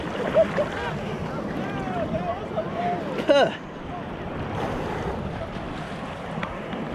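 Big ocean waves surging at Manhattan Beach, heard from a swimmer in the water, with a continuous close wash of surf and wind buffeting the microphone and a brief louder splash midway.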